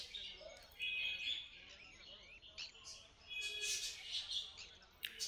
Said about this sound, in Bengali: বদ্রি পাখি দেখতে পাচ্ছেন, এক ঝাঁক বদ্রি পাখি।